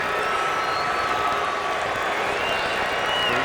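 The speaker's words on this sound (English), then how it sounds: "The Eagles offense trying to calm the crowd down in the stands." Home crowd of Eagles fans at a football stadium during a Falcons at Eagles game, a steady, dense roar of noise filling the stands, constant and distant-sounding, with a commentator talking over it.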